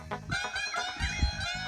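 A chicken clucks close by in a short burst of rapid, throaty calls, clear and moderately loud.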